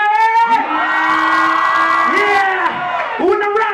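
Loud crowd at Rockets Cafe in Dubai cheering and whooping at the start of a rap battle night, sustained shouting voices swelling and dipping in waves across the whole stretch.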